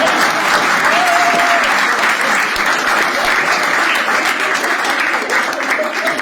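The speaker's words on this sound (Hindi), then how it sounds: "आपको लगे रिलेटेबल, ताली बजा देना" A live comedy-club audience applauds steadily and loudly at a stand-up show for about six seconds, a dense, even wash of clapping with a brief faint whoop partway through and no talking over it.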